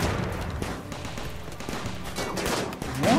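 Colonists fire guns in RimWorld during a rhino attack, a continuous fusillade of overlapping shots and bursts, loud and dense throughout the clip.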